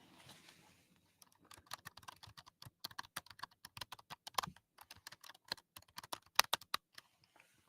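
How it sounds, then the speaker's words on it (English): Rapid, irregular clicks of typing on scissor-switch keyboard keys, close and crisp, starting after a quiet second and continuing in bursts with no talk. "that's scissor keys"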